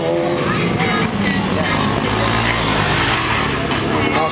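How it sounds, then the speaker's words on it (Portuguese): Motorcycle engine revving loudly as a rider pulls a wheelie with no front wheel fitted at a wheeling stunt event, a steady close roar under crowd noise and voices. "o cara tá dando um grau sem a roda da frente"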